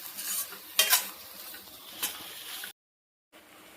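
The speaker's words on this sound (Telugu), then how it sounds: "ఎగ్స్ కూడా మంచిగా దాంట్లో ఆయిల్లో మొత్తం ఫ్రై అయ్యండి ఎర్రగా" Eggs frying in oil with onion stalks and spices, a steady sizzle broken by a few sharp scrapes of a utensil stirring in the pan, then a brief gap of silence.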